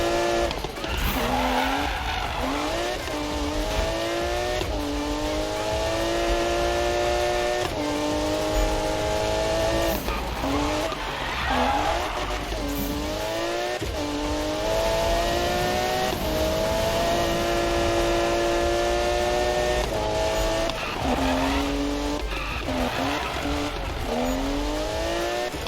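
Race cars in the Need for Speed video game, including a Porsche, skid and squeal with long sliding tire tones over revving engines, repeated screeches rising and falling across a continuous loud drive.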